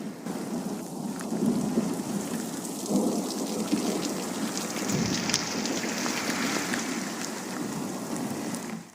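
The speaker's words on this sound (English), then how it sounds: "It's a hail river street." A hailstorm in a street in Meridian, Idaho, with hail and floodwater running along the road: a dense, continuous roar of pelting ice and rushing water, with occasional heavier rumbles.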